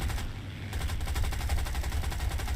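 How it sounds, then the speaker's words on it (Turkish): Sustained rapid aircraft machine-gun strafing in the War Thunder combat game, a dense, loud continuous burst of fire with no talk over it. "Ölümüne, ölümüne tarıyorum."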